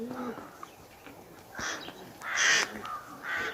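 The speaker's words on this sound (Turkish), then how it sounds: "Her yer kuzgun dolu." Several ravens caw harshly near a rooftop tumbler pigeon flock, a few rough calls spaced irregularly, some nearer and louder, over quiet outdoor background.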